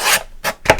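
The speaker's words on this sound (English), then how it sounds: "Very useful thing, this little Timmy trimmer" A small lightweight Tim Holtz paper trimmer slides through card in three quick, close rasping strokes, each a brief scraping swipe with short gaps between, heard alone.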